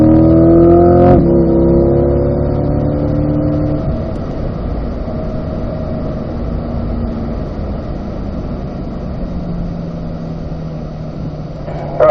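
Chevrolet Corvette C8 race car on a racetrack sweeping past close by, a loud engine howl whose pitch drops as it goes by, followed by a steady engine drone fading into the distance.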